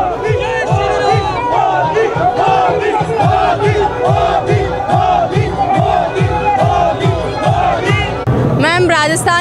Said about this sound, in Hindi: लगातार लोग जश्न मना रहे हैं, गुलाल से खेल रहे हैं, बल्ले बल्ले कर रहे हैं, तालियां बजा रहे हैं